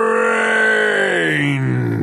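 A human voice imitating a zombie's loud moan: a single drawn-out groaning wail that slides downward in pitch over about two seconds, close and loud.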